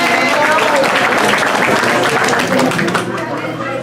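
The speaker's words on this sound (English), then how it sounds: "George and Joanna, just come out here and take a round of applause." A crowd gives a loud, sustained round of applause for a couple called on stage, dense clapping close and continuous throughout, easing slightly toward the end.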